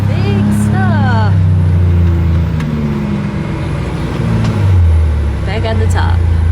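Tractor engine running on a farm, a loud steady low rumble with harmonic drone that shifts in pitch, close by, with a person speaking over it.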